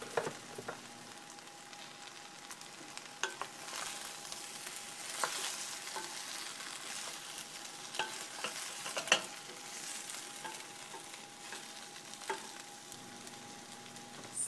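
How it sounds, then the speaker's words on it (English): Butternut squash sautéing in a pan with onions, rosemary and sage gives a steady soft sizzle and frying hiss, broken by occasional scraping stirs, close and fairly quiet throughout. "my butternut squash is sauteing with my onions and my aromatic rosemary and the sage"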